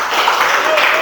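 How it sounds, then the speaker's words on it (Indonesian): Classroom of students clapping for a group presentation, a dense, close burst of applause filling the whole moment with no pause. "Tepuk tangan untuk kelompok 2"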